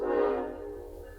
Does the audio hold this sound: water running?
no